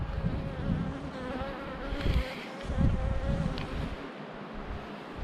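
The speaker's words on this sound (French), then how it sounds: "abeilles qui viennent me voir." Honeybees buzz steadily around a hive whose queen is failing and worn out, a dense, continuous insect drone close by with shifting swells and no talking.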